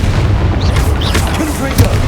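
A Bombarda explosion spell in Hogwarts Legacy on PS5, a loud, deep, booming blast with rumbling spread under game effects and shouted voices.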